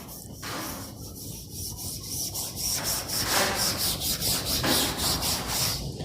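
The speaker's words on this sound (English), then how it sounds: "Okay, I am going to rub the board." A classroom board is wiped clean with repeated scrubbing strokes, a loud, close, rhythmic rubbing that speeds into quick regular back-and-forth swipes, with no speech.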